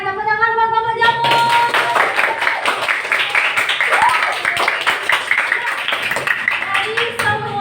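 Schoolchildren in a fifth-grade classroom burst into loud, sustained clapping for the mushroom diorama group, dense rapid hand claps filling the room after a teacher's voice.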